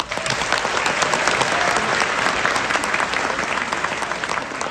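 A theater audience applauds during a film introduction before a Vertigo screening, a dense, steady wash of clapping that stays full and even throughout with no talk over it.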